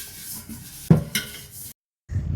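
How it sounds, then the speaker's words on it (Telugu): A metal kadai set down on a home kitchen stove before frying green chillies for tomato chutney: one sharp close clank with a lighter knock and brief rattle, then a short silence and some handling noise, with no talk. "స్టవ్ మీద అయితే కడాయి పెట్టుకున్నాను"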